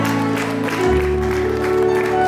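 Applause from a wedding banquet audience for the band musicians, a broad patter of clapping mixed with sustained, steady musical tones from the band's instruments.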